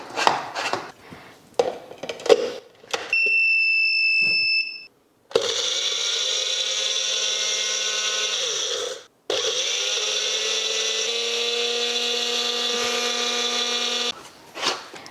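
A new mixer grinder with its blade grinding chillies and coriander: a few knocks and a short tone, then two long, loud whirring motor runs separated by a brief pause, ending in knocks.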